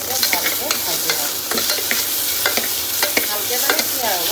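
Crushed ginger and garlic, a green chili and half a tomato fry in a pot for one-pot egg biryani, a close sizzle punctuated by regular sharp scraping stir strokes.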